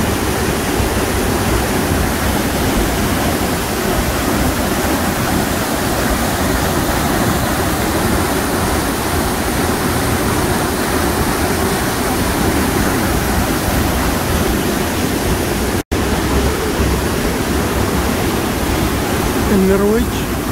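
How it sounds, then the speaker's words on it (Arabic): Stevenson waterfall in Norway roars as a steady, loud broadband rush of falling water that fills the whole stretch without pause. "شلال ستيفنسون"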